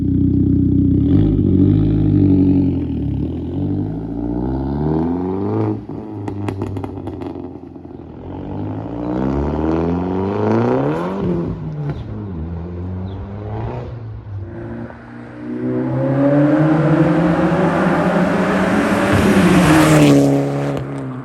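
A Saab 9-5 Viggen with a 2.5-inch full straight-pipe exhaust revs repeatedly and loudly, its engine note climbing and falling in several sweeping pulls before a final sustained high rev; no speech.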